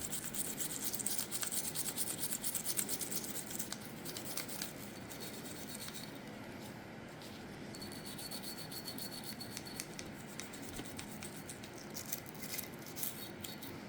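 A cleaning rag rubs over an HK VP9SK pistol during cleaning, producing a faint, continuous scratchy wiping sound, soft and close, with no voices.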